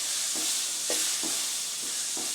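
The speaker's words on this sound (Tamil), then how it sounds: "நல்லா வதங்கட்டும் தக்காளி" Onion, tomato and green chillies sautéing in oil for a village-style fish curry, with a constant loud sizzle and about five evenly spaced stirring scrapes.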